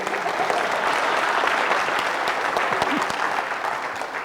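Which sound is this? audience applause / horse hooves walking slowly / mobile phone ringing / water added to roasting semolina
audience applause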